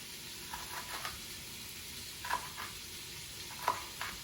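Fat rendering out in a pot for oyster stew gives a low, steady sizzle, with a few light scraping stirs landing at intervals.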